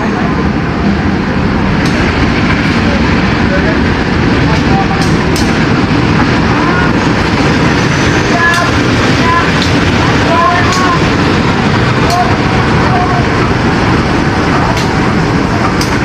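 Menoreh passenger train departs a station during a storm with rain, a constant loud rumble of rolling wheels and carriages close by, with a voice talking over it.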